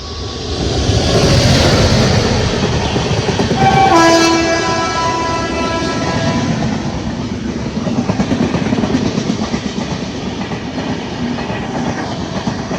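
Rajdhani Express on a rainy coastal Karnataka line rolls past with a loud, steady rumble and wheel clatter, and its horn sounds in a few sustained blasts around the middle before the train noise continues alone.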